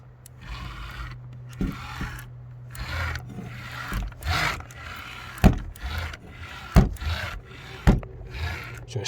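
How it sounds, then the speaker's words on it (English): Straight-cut gears inside an old Technika portable CD hi-fi being turned, giving close rasping, scraping bursts punctuated by sharp clicks and knocks, with no talking. "You might even hear the gears. Sometimes you can't turn against the gears. In this case you can."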